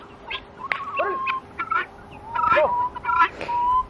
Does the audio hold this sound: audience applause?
no